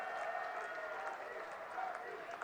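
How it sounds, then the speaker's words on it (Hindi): A large crowd at an outdoor political rally for Prime Minister Modi in Uniara, Tonk-Sawai Madhopur applauds in a dense, steady wash of clapping, distant and fairly faint, with no breaks. "एक बार जोरदार तालियों के साथ"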